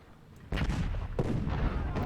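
Artillery fire in Ultimate General: Civil War, a Union battle at Fredericksburg: a sudden heavy boom followed by a second blast and rumbling roll of cannon fire, loud and close.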